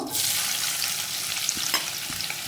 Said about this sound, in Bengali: এইভাবে আমি বাকি পেঁয়াজগুলো ভেজে নেব।